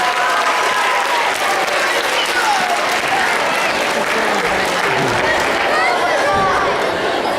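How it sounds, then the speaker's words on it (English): Sustained crowd applause rolls steadily for several seconds, filling the hall for a costumed Captain Chemo character and volunteers at a leukemia and lymphoma fundraising assembly, with some voices and cheering mixed into the clapping. "Let's have a big round of applause for Captain Chemo and our volunteers."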